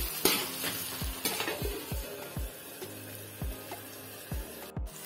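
Onions fry and brown in a pan as a spoon scrapes and taps against the metal in a loose repeating rhythm over a soft, constant sizzle, close up and with no voices.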